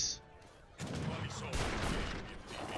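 Massed gunfire from many units erupts in a strategy video game battle, a dense crackling fusillade that bursts in after a quiet start and stays loud.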